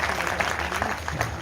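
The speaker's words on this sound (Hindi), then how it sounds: "ये कोई ताली मारने की बात नहीं थी" Audience applause at a large Ambedkar thought conference in Sarnath, Varanasi, a steady wash of clapping from a crowd heard alone without talk.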